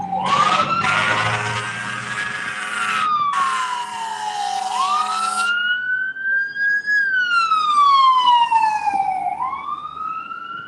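A loud wailing siren sweeps up and down in pitch, with a second siren layered over it, continuous and close for the whole stretch.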